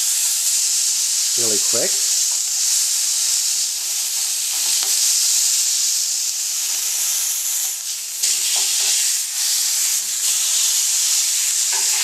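Filet mignon sizzles steadily in a hot frying pan as its sides are seared, giving a bright, continuous hiss. Brief scraping and handling noises occur, and a voice says a few words.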